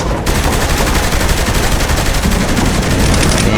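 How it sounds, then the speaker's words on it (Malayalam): Continuous rapid automatic gunfire rattles loud and close in the video game Saints Row The Third, with dense overlapping shots throughout and no talking. "വെടിയൊക്കെ നോക്കി ഇരുന്നാണ് വെടി വയ്ക്കുന്നത്"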